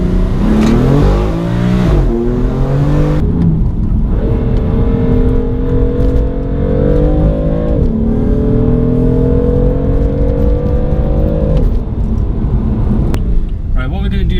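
A BMW F80 M3 engine revs hard on the move, climbing through aggressive harmonic pulls and dropping at shifts, loud and close with a voice talking over it.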